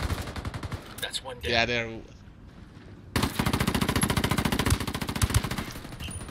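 Incoming automatic gunfire in the Ghost War multiplayer mode, a rapid machine-gun burst at first, then a long loud stream of rattling shots after a short lull, with a player speaking over the opening.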